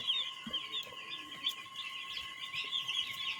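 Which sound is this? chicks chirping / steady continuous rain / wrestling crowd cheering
chicks chirping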